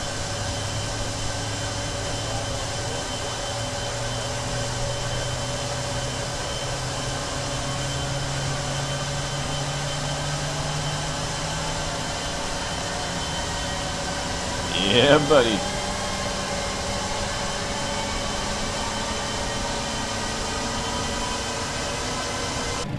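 A TFDI MD11 jet in Microsoft Flight Simulator spools up during engine startup, a steady whining, droning hum with tones slowly rising and a voice speaking briefly midway.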